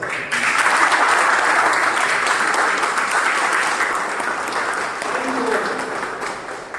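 Audience clapping steadily at a Toastmasters speech meeting, a dense sustained round of applause from a room of people that tapers slightly near the end.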